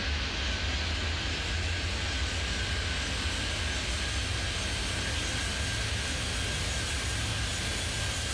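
An airplane takes off in the airport video game Airport Madness 3D, its engine giving a steady, loud, continuous roar that holds evenly throughout, with no talking.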